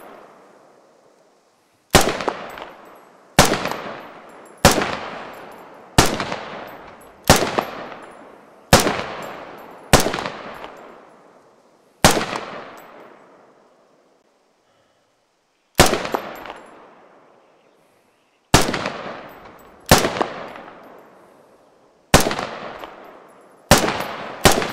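High-caliber designated marksman rifle in the Squad video game firing single shots, each a sharp loud crack with a long decaying tail, a dozen or so spaced one to two seconds apart with a few longer pauses.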